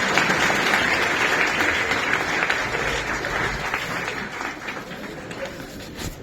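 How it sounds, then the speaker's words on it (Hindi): An audience claps loudly and continuously, dense applause that stays full for several seconds before thinning slightly toward the end, with no clear speech over it. "अब तो ताली बजाओ।"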